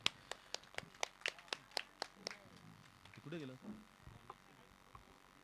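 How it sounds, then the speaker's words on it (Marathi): A small group claps in sparse, sharp beats for a prize winner at a village cricket tournament. The claps fade after a couple of seconds, and a voice speaks over a quiet background. "जोरदार टाळ्या वाजवा जरा तुम्ही"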